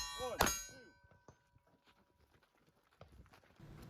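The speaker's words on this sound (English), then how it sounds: "I'm going to have to get 2 hits each on the various steel targets" A single sharp metallic clang rings out as a shot strikes a steel target on a shooting course, followed by faint scuffs and movement.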